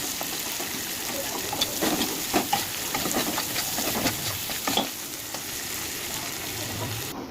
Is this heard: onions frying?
yes